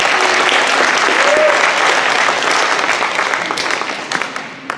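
An audience at a school awards ceremony claps steadily for a student, a dense, even wash of applause that holds for several seconds and then thins and tapers toward the end, with no talk over it.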